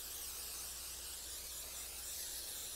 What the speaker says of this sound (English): we have cooking spray here, so we're going to go ahead and spray this.